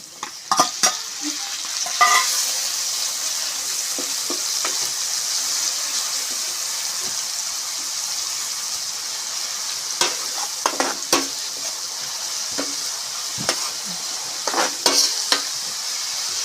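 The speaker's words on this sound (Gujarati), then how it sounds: "ડુંગળી આપણે નાખી દીધી છે જેવી તેવી તેલમાં પકાવવાની છે" Chopped onion frying in hot oil for dhaba-style paneer bhurji, a steady close sizzle with repeated clattering stirs of a spoon against the pan throughout, no talking.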